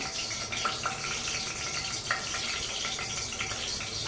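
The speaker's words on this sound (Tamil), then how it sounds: "அந்த பாருங்கள் பொரிக்குது" Steady sizzling and crackling of fish frying in hot oil, a constant bubbling hiss with occasional sharper pops, nearby and without speech.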